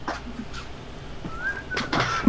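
Character in Wolfenstein: The New Order whistling a short rising tune, thin and fairly faint against background game ambience, with a few brief clicks and thumps.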